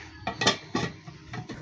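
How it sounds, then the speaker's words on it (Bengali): A lid is set onto a kadai with a few quick metallic clinks and clatters, close and fairly faint, lasting under two seconds. "এবার কড়াইটি ঢেকে দিব।"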